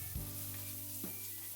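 Onions with chilli powder, spice powders and chopped green chillies sizzle and fry steadily in a pan while being stirred, a continuous close hiss for a chicken keema filling.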